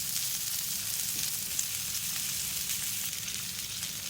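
Chicken sizzling on a grill over medium heat, a steady dense crackle and hiss that holds loud and close from start to finish with no voices.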